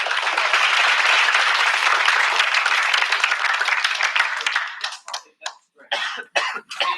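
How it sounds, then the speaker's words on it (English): A judging-session audience at a student invention showcase claps in a steady, dense burst that thins into a few scattered final claps, with a cough among them. "Let's give another round of applause."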